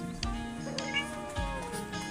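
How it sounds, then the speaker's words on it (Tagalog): A cat meows twice in the video game Blockie Farm, two short, clear, drawn-out calls over steady game background sound. "may pusa"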